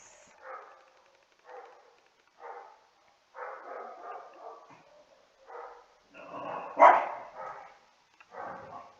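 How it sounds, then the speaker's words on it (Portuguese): A dog barks repeatedly in short bursts, with one louder bark near the end, against an otherwise quiet background. "o cachorro latiu"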